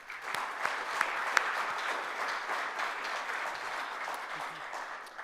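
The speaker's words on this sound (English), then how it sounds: "Please join me in a round of applause for the tireless efforts of all these great individuals and organizations." Audience applause at a community forum for a Sugar Land Ismaili Jamatkhana and Center, a steady dense wash of many hands clapping throughout, moderately loud and unbroken, with a few sharper claps standing out and no speech.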